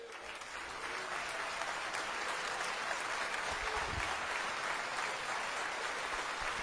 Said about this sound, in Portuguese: Vamos aplaudir ao Senhor Jesus por cada vida que está se decidindo, e são muitas.